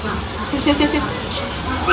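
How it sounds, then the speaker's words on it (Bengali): Hot pakoras sizzle in a pan of oil at home, a steady close hiss of frying that runs throughout under a speaking voice. "গরম গরম পকোড়াটা ভাজা চলছে"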